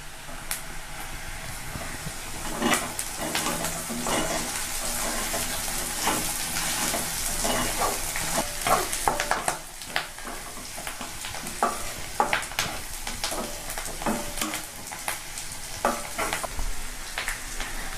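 Curry leaves, garlic and ginger fry in hot oil for a Nagercoil-style crab curry, a steady close sizzle broken by the scrape and clatter of a spoon stirring the pan.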